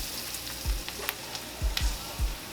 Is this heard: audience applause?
no